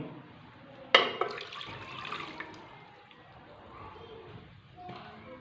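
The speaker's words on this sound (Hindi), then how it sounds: "उसमें मैं 1 कप डाल रहा हूँ पानी," One cup of water poured into a small pot in a home kitchen, a short splashing pour followed by quieter trickling and light clatter.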